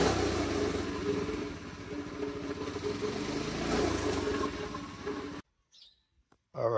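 A go-kart engine running with its gas tank not properly mounted, a rough, rattling drone with slight surges that cuts off suddenly, leaving near silence.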